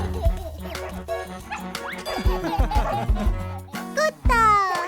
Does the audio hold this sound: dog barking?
yes